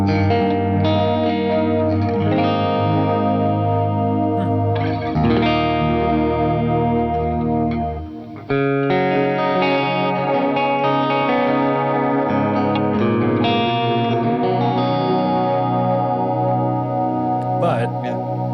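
Lush, sustained electric guitar chords through a delay pedal, with a washy, repeating delay trail and chorus-like shimmer, played steadily and close.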